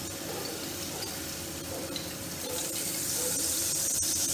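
Spiced water being added to pointed gourd curry frying in a pan, giving a steady, close hiss and sizzle with a watery splash that grows slightly louder toward the end, with no talking.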